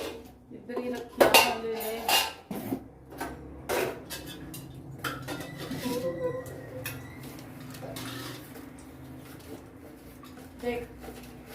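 Steel plates and dishes clattering as a meal plate is set out at home, sharp metallic clinks and knocks clustered early then scattered lighter taps, close by, with a voice talking at times.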